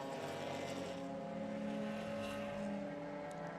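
Vintage B sedan race cars, Alfa Romeos and BMWs, sweep through turn 9 into Thunder Valley and under the bridge at Mid-Ohio, giving a steady, moderately distant engine drone that holds throughout with no talking.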